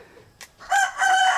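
A rooster among a flock of chickens in El Salvador's coffee country crows close and loud in two strong drawn-out phrases after a brief soft sound.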